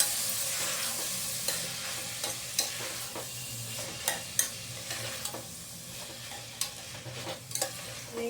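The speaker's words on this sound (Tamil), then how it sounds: "இப்போ கேரட் 1 கப், பட்டாணி 1 கப் நல்லா ஃப்ரை பண்ணிக்கலாம்." Carrots and peas, following beans, being stirred and fried in a pan for Karnataka-style bisibela bath, with a steady low sizzle broken by repeated scraping clicks of the spoon at an irregular rhythm, close and alone.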